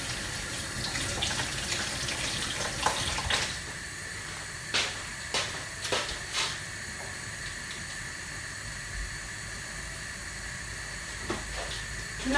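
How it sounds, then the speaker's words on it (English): Tap water runs steadily into a sink while cheese-coated hands are rinsed under it, a constant close hiss broken by a handful of brief splashes and knocks. "I'm actually going to wash my hands because they're all cheesy."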